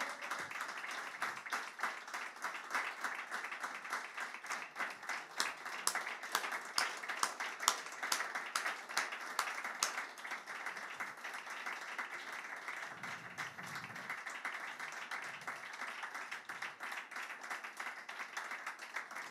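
A concert crowd at a show applauds a singer with steady, dense clapping that carries on for nearly twenty seconds, with faint crowd voices underneath.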